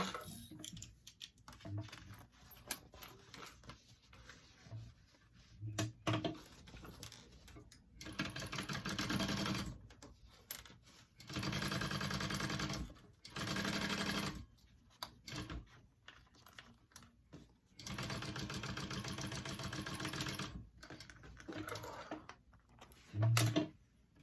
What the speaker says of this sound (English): I'm going to just give it a little top stitch there.